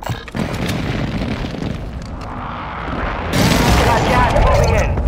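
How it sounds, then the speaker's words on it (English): Airstrike explosions in the Warzone game, a run of deep booms and crackling blasts rolling together, swelling louder toward the end. "Strike in. No movement."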